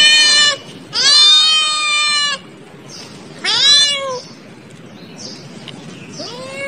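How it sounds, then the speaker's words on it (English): Several loud, drawn-out meows from a cat nearby, three strong calls followed by fainter ones, with quiet pauses between. "C for cat."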